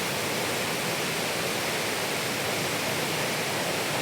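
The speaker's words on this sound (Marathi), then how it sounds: "माझ्या बाजूला धबधब्याचा आवाज येत असेल तुम्हाला" Chandranagar waterfall pours as a constant, dense roar of rushing water, loud and unbroken throughout with no voices.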